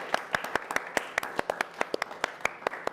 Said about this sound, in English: Round of applause to the bar as well